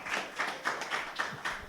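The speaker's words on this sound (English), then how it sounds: "So if we can all just like give ourselves a round of applause" A small group applauding themselves at the end of an online discussion, with steady pulsing claps blending into a continuous patter heard through a compressed call connection, without speech.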